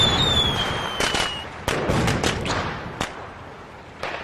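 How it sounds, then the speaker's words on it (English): Fireworks going off at a park, a series of sharp cracks and bangs at irregular intervals, some near and loud, others fainter, with a thin whistling streak early on and no talking. "Whoa, I see fireworks."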